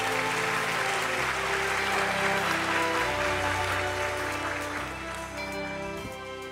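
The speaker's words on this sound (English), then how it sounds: "please welcome her with a warm round of applause" A large audience applauds a welcome address at a formal government event, a dense continuous wash of clapping heard at moderate level with a sustained tonal hum underneath.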